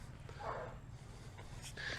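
Puppies whimper and yip faintly over a low steady hum of room noise, a couple of brief soft cries, no talk.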